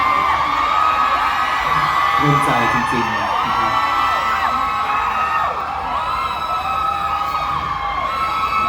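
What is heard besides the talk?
crowd screaming and cheering at concert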